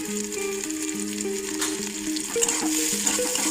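Onion and curry leaves sautéing with turmeric in a kadhai for poha: a continuous close sizzle with stirring, over a faint steady tonal background.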